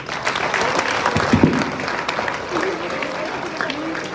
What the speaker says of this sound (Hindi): आंसर के लिए एक बार जोरदार ताली